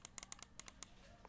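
A delux M629 wireless mouse gives a quick series of sharp, faint clicks in an irregular rhythm, close-up and quiet with no voice.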